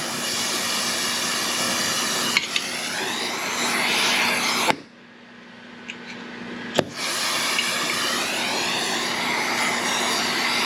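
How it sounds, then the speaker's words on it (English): A torch flame roars steadily while heating a cast iron Ford 8.8 rear axle, a loud broadband rushing sound. It drops briefly to a softer hiss in the middle, with a few sharp clicks, and then roars again. "So let's get the torch fired up here."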